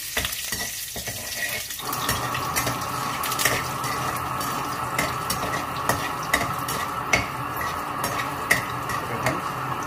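Green chilies and curry leaves crackle and sizzle in hot oil for a crab rasam tempering, a steady close fry with frequent sharp pops and stirring scrapes, no voices.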